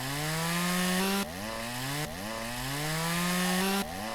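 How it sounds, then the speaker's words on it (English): In the video game Lumberjack's Dynasty, a chainsaw cuts a tree stump, snarling loudly and continuously as its pitch drops under load and then jumps back up in repeated surges, with no one talking. "So just take out your chainsaw and just go ahead and do that."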